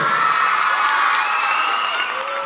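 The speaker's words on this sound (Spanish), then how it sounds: "Les damos un aplauso muy grande a los chicos." A crowd at Club Media Fest in Argentina claps and cheers loudly and steadily, the applause dense and continuous throughout.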